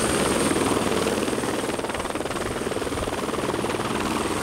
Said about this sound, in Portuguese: Militares armados sobrevoaram o bairro em um helicóptero